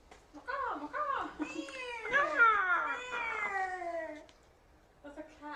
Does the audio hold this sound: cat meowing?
yes